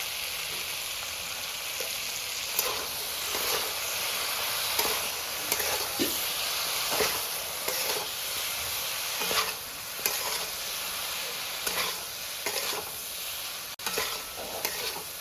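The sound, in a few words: cumin, mustard, poppy seed and chili paste frying in pan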